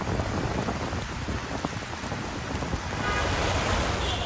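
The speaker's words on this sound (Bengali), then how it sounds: "প্রচণ্ড গরমের পর স্বস্তির বৃষ্টি।" Steady, dense rain falling over Dhaka during a downpour, a continuous close hiss of drops that grows louder and heavier toward the end, with no voices.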